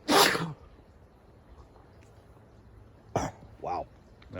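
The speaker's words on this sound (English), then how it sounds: "Wow, that was a big sneeze." A single loud, sharp sneeze bursts out at the start, followed by quiet and then a couple of brief vocal sounds.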